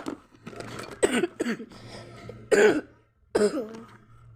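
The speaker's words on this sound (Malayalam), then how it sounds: "ചുമയാണ് ഗൈസ്. ചുമ" A person coughs and clears their throat in a few separate bursts with short pauses between them, close to the microphone in a quiet room.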